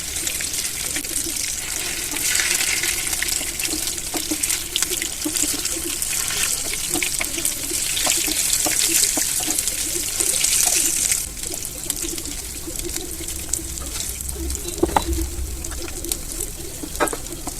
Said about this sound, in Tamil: அதில் எண்ணெயை ஊற்றி நம்ம செஞ்சு வச்சுருக்க அந்த ப்ரெட்டு ரோலை ஒன்று ஒன்றா வந்து அதில் வச்சு ஃப்ரை பண்ணி எடுத்துக்கலாம்